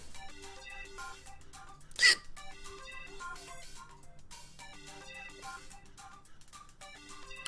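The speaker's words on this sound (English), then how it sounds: "I'm having these like powerfully emotional hiccups right now" A single sharp hiccup bursts out once, brief and loud, over quiet, steady background music from a Minecraft game.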